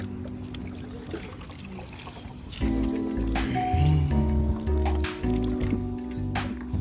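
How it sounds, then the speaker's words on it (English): Water pours from a car part onto grass during a Corsa teardown, a gurgling, splashing stream that starts abruptly midway and runs loud and close to the end. "Now, I'm gonna pour this on the grass."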